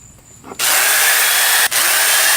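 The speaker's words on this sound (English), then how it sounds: "So I'm going to go ahead and drill some pilot holes and countersink holes" A power drill bores pilot holes into a wooden board. After a quiet lead-in it whirs up abruptly and runs loud and steady, with one brief stop before continuing.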